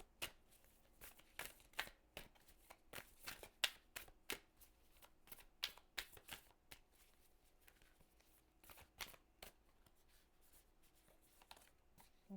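Tarot cards being shuffled by hand, a quiet series of crisp riffling and sliding bursts in irregular rhythm, close up and alone without talk.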